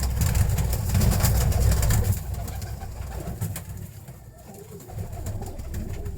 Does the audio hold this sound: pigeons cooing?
yes